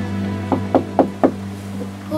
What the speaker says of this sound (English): he crept up to the door and knocked.